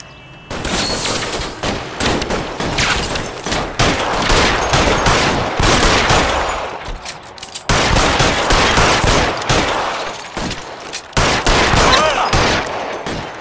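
Dense gunfire fills a shootout in the game L.A. Noire, with loud, rapid bursts and volleys crackling almost nonstop and only brief breaks between them.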